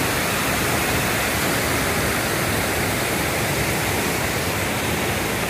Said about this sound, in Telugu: చాలా బాగుంది ఇక్కడ ఈ వాటర్ ఫాల్ చూస్తుంటే